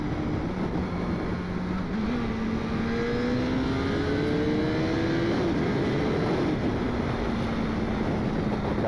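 A motorbike engine hums steadily beneath the rider, its pitch climbing and shifting through gears as it accelerates, loud and continuous throughout, with constant road and wind noise.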